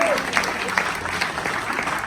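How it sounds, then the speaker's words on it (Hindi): A crowd at a company sales meeting applauds heartily, with a continuous roar of many hands clapping at once and occasional sharper individual claps, heard up close throughout. "तो एक बार तालियां जोरदार होनी चाहिए सबके लिए"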